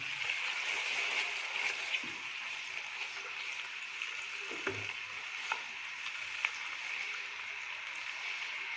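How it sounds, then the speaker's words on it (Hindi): Onion and tomato frying in a pan for turnip curry hiss in a continuous loud sizzle after a splash of water is added, with a few soft clinks and stirring taps. "अब हम इसमें थोड़ा सा पानी डालेंगे।"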